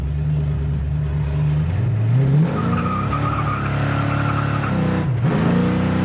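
A 1970 Ford Mustang Mach I accelerating hard, its engine note climbing through the gears with a brief dip at a shift, loud and close from inside the car, with no talk.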